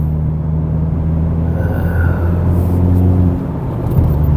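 Continuous low rumble and hum of a Hyundai Avante N 2.0 manual rolling along the road on Continental MC7 tires, steady tire and engine noise with slight swells, no voices.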